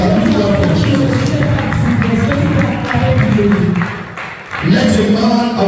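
A conference hall audience claps for Jesus, a dense, loud wash of many hands mixed with crowd noise that dips briefly near the end before surging back, with voices speaking over it.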